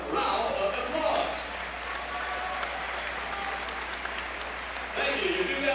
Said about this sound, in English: How about we give them all a warm round of applause?